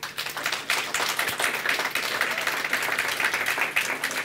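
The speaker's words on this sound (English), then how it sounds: "Dafür, finde ich, sollten wir zunächst mal als Dankeschön herzlich applaudieren." An audience at a specialist conference lecture applauds to thank the speaker, dense steady clapping from many hands throughout, close and fairly loud.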